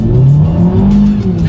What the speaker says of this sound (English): let's do a quick little acceleration here in sport mode without the paddle shifters